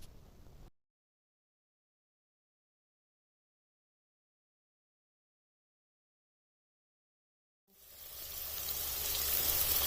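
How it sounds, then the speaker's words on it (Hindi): Boneless chicken strips fry in a hot pan, a loud steady sizzle rising after a long stretch of near silence, with a brief faint sizzle at the very start. "और अब इस चिकन को इसमें लाइट गोल्डन ब्राउन कलर आने तक फ्राई होने देना है।"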